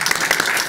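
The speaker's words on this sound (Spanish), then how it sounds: "Un aplauso para Welling" Short burst of audience applause at a developer event, dense steady clapping from a crowd at close range, lasting under a second.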